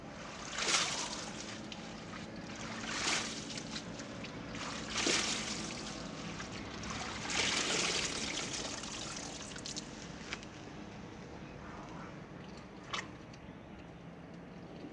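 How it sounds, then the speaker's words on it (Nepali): Gundruk, fermented leafy greens, is rinsed in water to wash out sand and soil, with soft splashing and trickling in irregular surges, close and fairly quiet, continuing throughout. "अब मैले एक पानी पखालेँ अब यसलाई म 2-3 पानी चाहिँ पखाल्छु"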